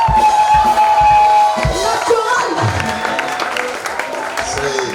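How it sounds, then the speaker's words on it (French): A church congregation applauds a lively choir during a prayer weekend celebration, clapping mixed with crowd noise and sustained tones from music or singing, fairly loud throughout. "applaudit le groupe également qui chante"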